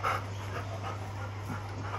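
A golden retriever pants close by, soft and rhythmic breaths under a steady background hum.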